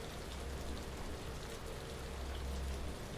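Steady rain falls in the train video game Trainz Simulator 3, a soft continuous hiss of drops on surfaces with a low rumble beneath, even and fairly quiet throughout with no voices.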